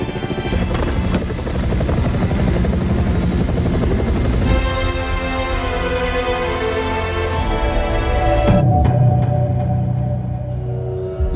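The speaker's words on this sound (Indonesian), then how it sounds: "dua helikopter penjemput tiba untuk menjemput Lisa dan tentara Prancis yang tersisa" Two rescue helicopters arrive in a film scene, their rotors thudding loudly and steadily with heavy low rumble and wind noise throughout, with no talking.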